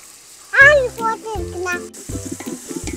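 Onions frying in a pan for a Malabar-style chicken curry give a faint, steady sizzle under a child's and an adult's voices talking close by.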